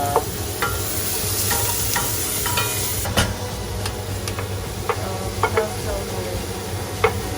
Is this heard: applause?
no